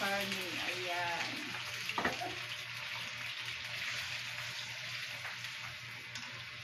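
Meat fries in a handleless pan with a steady, close hiss and sizzle throughout, a faint voice speaking briefly at the start and a light clatter of stirring.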